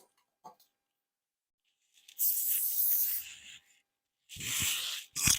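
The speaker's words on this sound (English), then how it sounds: "I'm just going to lift this up a little bit and spray underneath here" Two bursts of hairspray hiss aimed beneath a lifted curl of a vintage-style glam wave, each a close, breathy spray lasting about a second or two, separated by quiet with faint small handling sounds.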